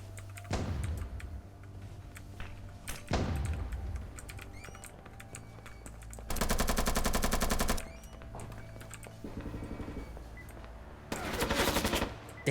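Submachine guns firing in a tactical shooter video game, with several loud bursts of rapid automatic fire, including one long sustained stretch and shorter volleys, spaced between quieter gaps.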